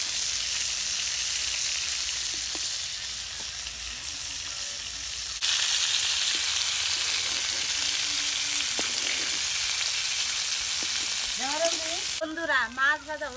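Pangas fish fries in a pan with a loud, steady close sizzle, broken by occasional utensil clinks and stirring, and a voice joins briefly near the end.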